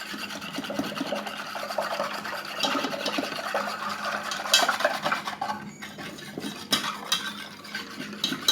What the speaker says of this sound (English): I think I'm actually going to switch and use a whisk